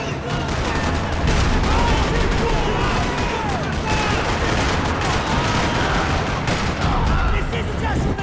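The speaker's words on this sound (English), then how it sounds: "Another parking lot rattling with gunfire." Dense video-game gunfire from Max Payne 3 fills a parking lot shootout, a near-continuous rattle of shots and bursts with shouting voices mixed in throughout.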